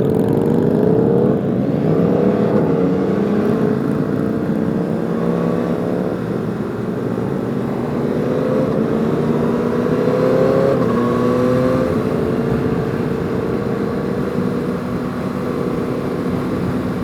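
Yamaha XSR900 motorcycle being ridden, captured from inside the rider's helmet: a continuous loud engine drone with rising and falling revs through gear changes, mixed with steady wind rush.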